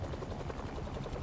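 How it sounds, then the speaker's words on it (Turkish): A helicopter's rotor blades in the video game Marvel's Spider-Man 2, a steady low, pulsing whump that runs through the whole clip, loud and close with no voices over it. "a helicopter's blades."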